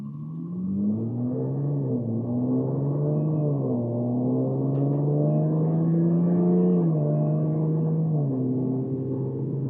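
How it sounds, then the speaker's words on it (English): A 2017 Jaguar F-Type S engine revs up and down with a deep, smooth exhaust note, rising and falling in pitch over several seconds with no talking. "Definitely changes the exhaust note."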